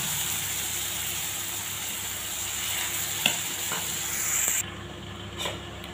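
Boiled whole green gram poured into a frying pan of sizzling spiced oil with turmeric, a steady close hiss with a few sharp clinks, then the sizzle drops sharply quieter after the peas go in.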